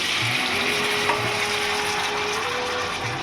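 Potatoes fry in oil tempered with nigella seeds and dried chillies, a dense continuous sizzle close by with faint stirring knocks and a thin steady tone running underneath.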